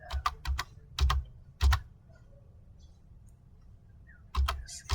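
Bursts of computer-keyboard keystrokes while C code is entered, a quick cluster of taps, two short runs, a long quiet gap, then a final flurry; close and crisp, with no talking.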